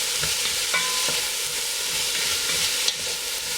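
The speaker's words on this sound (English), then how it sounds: "I'm using avocado oil, by the way. Onions in, and here we go." Onions frying in avocado oil, a loud, dense hiss of sizzling close by with small stirring knocks and crackles, steady for the whole few seconds.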